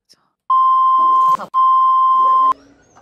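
Two long, loud, steady censorship bleeps cover speech, each lasting about a second with a brief gap between them and faint voices around them.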